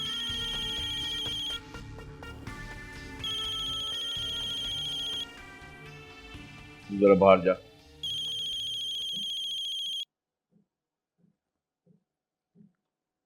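A mobile phone rings in a Pakistani drama scene, its electronic ringtone repeating in loud bursts for several seconds before cutting off. A voice speaks briefly over it, then quiet taps follow.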